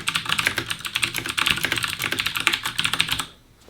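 Rapid, dense clatter of keys on a backlit mechanical computer keyboard being typed fast, close and loud, with no speech, stopping abruptly near the end.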